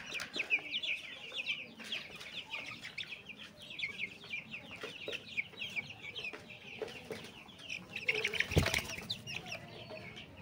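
Tiger breed chickens and 20-day-old chicks cluck and chirp steadily in a coop, with mostly young roosters among them; the busy high peeping runs throughout, and a brief flapping burst comes near the end.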